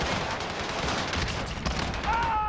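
Rapid bursts of gunfire from a video game fill the whole stretch, dense and continuous at close range, with a tonal whine near the end and no talk over it.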